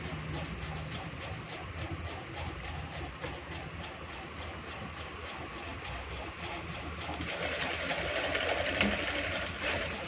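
A sewing machine stitches a shirt collar in a steady, fast mechanical whir that runs throughout, growing a little louder and busier near the end.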